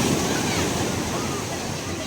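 Sea waves wash steadily onto the shore of an official public beach in Alexandria, Egypt. The surf makes a loud, continuous rush close by, with wind buffeting the microphone.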